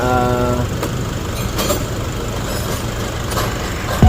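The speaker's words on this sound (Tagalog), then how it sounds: "maingay na nga po yung makina" A rough, noisy Nissan Navara diesel engine runs steadily and loudly throughout, with a low rumbling drone and occasional faint clicks over the noise.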